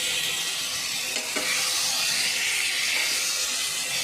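Potatoes and peas frying in a pan for a home-style curry, a steady close hissing sizzle with faint stirring scrapes, continuous and alone.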